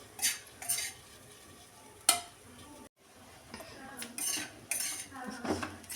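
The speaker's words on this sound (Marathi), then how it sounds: "सतत आपण असं हलवून घेऊया" A spoon scrapes and clinks against a pan while sabudana khichdi is stirred, with soft frying sizzle underneath. The scrapes come in irregular bursts, close and fairly quiet.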